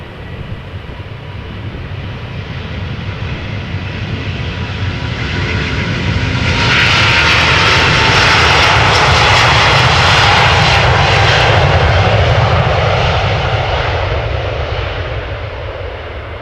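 A China Airlines Airbus A350 jet departs Amsterdam Schiphol bound for Taipei, its engine roar swelling loud and close, peaking mid-pass with a hissing whine, then slowly easing away, with no voices.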